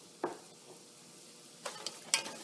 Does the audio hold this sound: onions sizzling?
yes